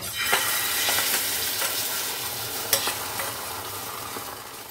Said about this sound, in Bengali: এবারে বাকি যে ডিমটুকু ছিল এইটুকু দিয়ে আমি একটু অমলেট করে নেব